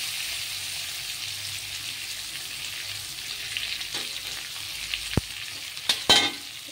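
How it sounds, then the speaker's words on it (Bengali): Onions fry lightly in mustard oil, a steady close hiss of sizzling throughout, with a few sharp clicks and utensil knocks near the end. "পেঁয়াজটা হালকা করে একটু ভেজে নেব"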